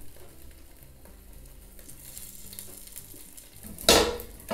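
Jalapeños sizzle in olive oil in a Ninja Foodi, with a steady frying crackle and light clinks before one loud, close scrape and clatter as they are flipped.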